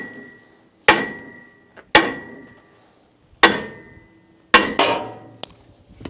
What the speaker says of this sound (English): just give her a couple whacks